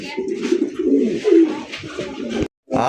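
Pigeons being shown for sale coo in a low, rolling, throaty murmur close by, steady for over two seconds, then a brief silence before the cooing starts again.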